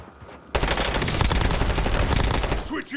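Dense, rapid gunfire from the video game Warzone Resurgence bursts in loudly after a brief quiet start and continues as a sustained, crackling volley of overlapping shots.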